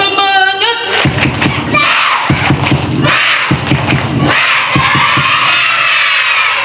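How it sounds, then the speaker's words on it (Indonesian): Schoolchildren from first to sixth grade perform a spirited clapping chant together, loud and close, with sharp rhythmic bursts of claps broken by short pauses and shouted voices. "Tepuk semangat."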